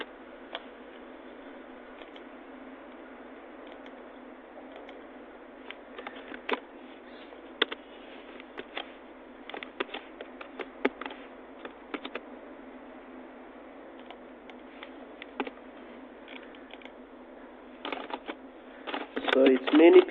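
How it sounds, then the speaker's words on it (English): Computer keyboard typing as a document is written, with sparse clicks and short bursts of keystrokes close by, picking up into a denser run near the end, mixed with a person talking. "So let's type that one."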